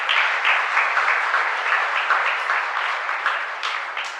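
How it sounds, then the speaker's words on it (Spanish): A congregation applauding during a church mass, steady dense clapping from many hands in a hall, fading slightly toward the end. "A ellos nuestra gratitud con un fuerte aplauso."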